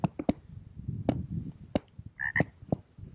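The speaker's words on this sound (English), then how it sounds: "One just croaked behind me." Desert frogs croak outdoors at night: a string of short, sharp clicking calls at irregular intervals, with one louder, more tonal croak near the end, all fairly close against quiet surroundings.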